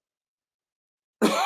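A single close, sharp cough and throat clear bursts out suddenly after a second of silence.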